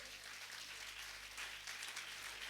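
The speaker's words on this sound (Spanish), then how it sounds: "Le damos un aplauso a Jesús." Church congregation applauding during a Spanish-language sermon, a faint, steady wash of clapping lasting a couple of seconds with no voices over it.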